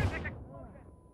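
An explosion in The Culling video game gives a brief deep boom that fades over about a second, with game sound around it.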